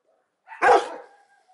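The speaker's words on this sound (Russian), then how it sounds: "Это собаки." A Rottweiler gives a single short, loud bark up close, ending in a brief fading tail, with near silence around it.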